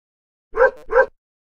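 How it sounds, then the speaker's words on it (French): A small cartoon dog in a children's video game gives two quick, bright bark-like yelps in succession, close and clear against silence. "Et regarde, il y a Bastien le petit chien."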